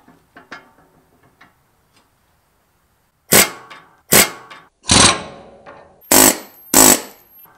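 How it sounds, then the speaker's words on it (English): Five sharp metallic hammer strikes ring out at a steady pace, loud and close, punching out rivets on an International Harvester Cub Cadet 71 tractor, after some faint light tapping and a moment of quiet. "I could probably just punch those out rather than drilling them out"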